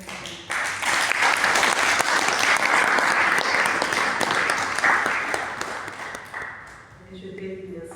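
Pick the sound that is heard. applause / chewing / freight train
applause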